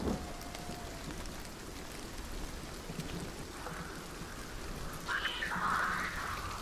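Steady, fairly soft rain falls in the video game Hunt: Showdown, a continuous hiss with a brief brighter burst of noise near the end.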